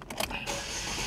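Chevrolet Equinox engine starting: a brief starter crank followed by the engine catching and settling into a steady, close idle hum.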